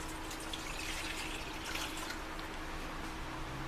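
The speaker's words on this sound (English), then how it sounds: "So 2 cups of water, and we'll put that in our pot." Purified drinking water is poured into a cooking pot, giving a soft, continuous splashing and trickling stream that stays steady and fairly quiet from start to finish.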